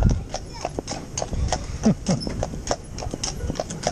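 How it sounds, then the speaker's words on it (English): Horse hooves clip-clop in an uneven, steady rhythm close by, with people talking over the hoofbeats. "when they see the horses coming"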